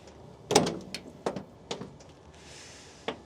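The driver's door of a 2000 Mercedes Sprinter diesel camper van clicks and opens with a latch thunk, followed by a few lighter knocks and rattles, then a soft rushing hiss and a final click.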